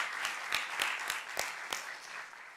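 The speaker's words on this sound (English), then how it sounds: "Can we give him one more round of applause?" A round of applause from the audience at a spring student demo day, with a crowd clapping steadily and a few sharp, distinct claps standing out near the front before the sound gradually thins and fades.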